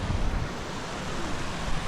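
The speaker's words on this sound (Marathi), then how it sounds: "हे बघा हा सर्व धबधबा आहे." A waterfall at Mahabaleshwar roars as a dense, continuous rush of broadband noise, loud and steady, with wind buffeting the microphone and no talk.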